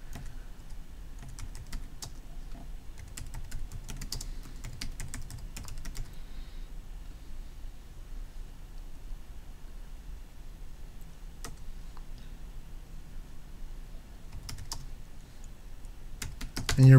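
Steady computer keyboard typing with irregular bursts of keystrokes, close and moderately loud over a faint background hum, with no talking.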